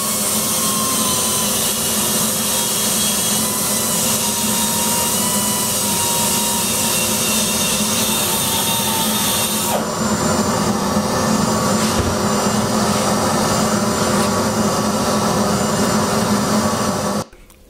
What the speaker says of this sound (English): At this point, I'm just ready to start cutting the chambers. And this is the form of cutter I'm using.